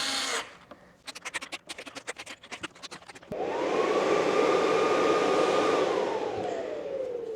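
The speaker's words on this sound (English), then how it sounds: "Right now, I'm doing step 2, tightening all the screws." Power tool driving screws into the case of a Comvolt power station: a run of quick ratcheting clicks, then a loud, steady motor whine that holds and winds down near the end, heard alone and close up.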